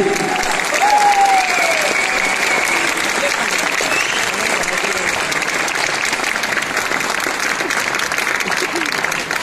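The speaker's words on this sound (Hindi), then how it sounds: "ठोक दीजिए एक बार ताली।" An audience at a seventh anniversary direct-selling company event claps in sustained, dense applause that continues at an even level for the whole stretch, with faint voices mixed in.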